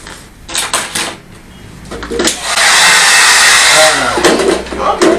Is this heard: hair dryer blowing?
yes